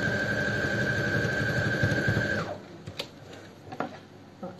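A sewing machine runs a steady, fast topstitch on a handbag for about two and a half seconds, then stops, leaving a few quiet clicks and handling noises.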